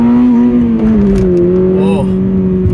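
A 2022 Toyota GR86 with a manual gearbox accelerates, its engine note loud and close, holding a strong steady drone that climbs slightly in pitch over a few seconds.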